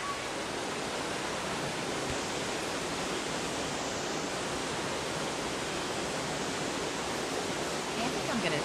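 A river flows steadily beside a picnic spot, a dense, even rush of water that stays loud and constant throughout with no pauses.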